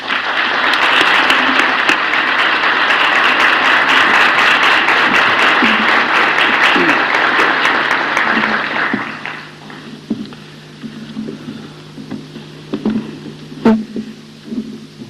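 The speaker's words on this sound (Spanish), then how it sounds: "podamos rendirle un primer tributo a través de un aplauso caluroso para darle la bienvenida" An audience at a yoga, science and medicine conference in Vigo gives a speaker warm welcoming applause, loud and dense for about nine seconds, then thinning to scattered claps and quiet room noise.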